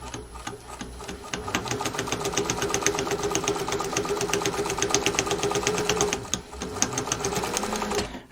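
A sewing machine stitches a nighttime landscape quilt in free motion, a quick steady run of close, even needle clatter with a brief pause near the end.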